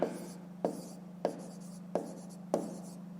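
Handwriting with a pen, about five firm scratching strokes spaced evenly, close and clear over a low background hum.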